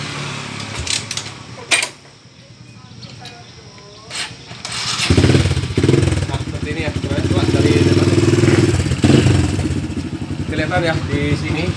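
A Kawasaki KLX motorcycle with a worn, slipping clutch is cranked with a few short starter attempts, then catches and settles into a loud, close, steady idle while someone talks over it.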